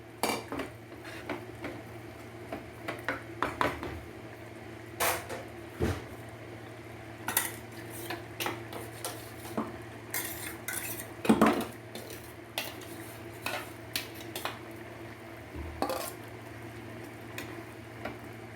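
Ground paste being stirred into a prawn and shallot gravy in a pan, with a spoon clinking and scraping against the pan in irregular knocks over a quiet bubbling simmer.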